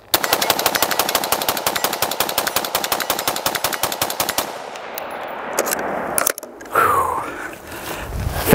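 An AR-15 rifle fires .223 rounds in a rapid, evenly spaced string of loud, close cracks lasting about four seconds, then stops, leaving scraping handling noises and a few clunks.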